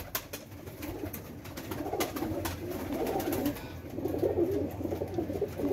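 Pigeons coo softly and repeatedly at close range, a female paired with a male in a loft, low rolling calls mixed with faint rustling and occasional sharp clicks.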